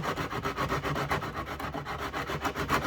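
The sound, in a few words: sanding zebrawood with a 60-grit sanding block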